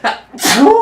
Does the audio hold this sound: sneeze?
yes